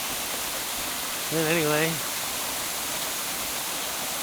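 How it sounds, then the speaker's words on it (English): A waterfall off Highway 20 in Oregon pours down as a steady broadband rush that fills the whole clip, with someone briefly speaking over it partway through. "there's the waterfall coming down"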